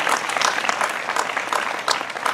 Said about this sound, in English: Big round of applause for grandma and grandpa